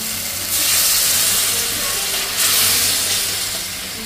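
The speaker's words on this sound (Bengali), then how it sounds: "এখন আমি দিয়ে দেব সামান্য একটু জল।" Water poured into a pan of frying spice paste of tomato and onion, for a mustard fish curry, raises a loud steady sizzle and steam hiss with two stronger bursts, close up and free of talk.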